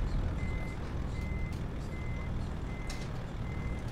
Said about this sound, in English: you can hear everyone else's truck more than your own